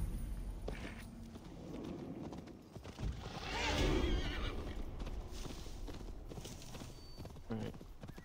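A horse in the video game Assassin's Creed Valhalla whinnies loudly mid-clip after a fall, while hooves clatter in uneven clip-clop steps throughout under game ambience.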